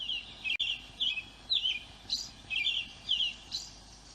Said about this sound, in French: Puis un rouge-gorge lance son chant joyeux.